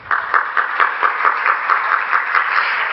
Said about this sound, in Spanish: Los recibimos a todos y todas con un aplauso.